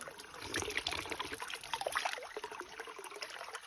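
Natural forest stream water trickling and splashing steadily nearby, a continuous bright burble with small irregular drips layered throughout.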